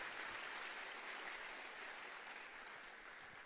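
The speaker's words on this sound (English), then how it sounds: "It's a long list, but please give a round of applause." An audience at the PennApps XVI hackathon closing ceremony applauds in a dense, sustained wash of many hands clapping, steady throughout and tapering slightly near the end.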